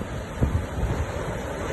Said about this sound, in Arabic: سيول وسط أملج تدخل البحر